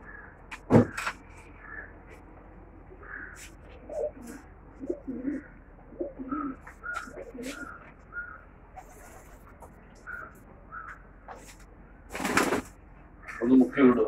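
Pets kept by a bird keeper coo softly and repeatedly nearby, pigeons or doves making low, rolling calls spread through the clip, with a person speaking at times and a couple of sharp handling knocks.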